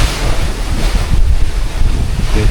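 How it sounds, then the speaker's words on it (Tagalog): Strong ocean waves crash and surge against the shore of a snake island, a loud, continuous roar of surf mixed with heavy wind buffeting the microphone, with no voices. "Grabe yung alon, no?"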